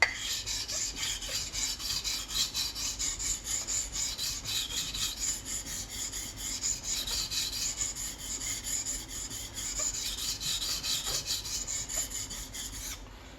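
A Baekro sashimi knife is sharpened on a wet stone, a continuous rhythmic rasping of back-and-forth strokes at close range, with no voices.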